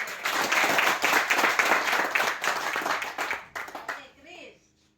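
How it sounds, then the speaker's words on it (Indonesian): Applause in a classroom practice session: a group clapping, loud and dense for several seconds before thinning and fading out, with a few voices heard as it dies away. "Kasih aplaus dulu"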